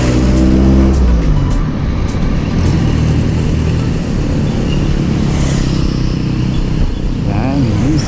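Road traffic heard from a motorcycle ride in the Philippines as a jeepney passes, loud engine drone and wind rush close by, with a rider talking over it.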